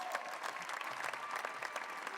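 Audience at a school district teacher recognition meeting applauds steadily for the full stretch, a fairly quiet, even patter of many hands with no talk over it.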